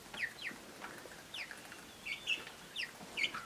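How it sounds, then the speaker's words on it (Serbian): Farmyard hens give short, faint clucks at irregular intervals over a quiet background. "evo kljucaju se koke"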